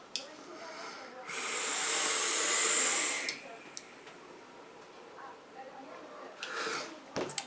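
An e-cigarette coil on a mech box fires for about two seconds, giving a loud, steady airy hiss. Quieter breathing and handling noises follow, along with a brief second hiss.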